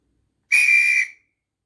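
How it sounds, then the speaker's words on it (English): Guard's whistle sound function from a Hornby class 37 model locomotive: one short, shrill, steady blast lasting about half a second, loud and close, alone against silence. "23 is guard's whistle."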